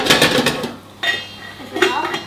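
A covered pot of boiling food on a home stove is shaken by hand, giving close, loud metallic rattles and scrapes in two or three jostling bursts.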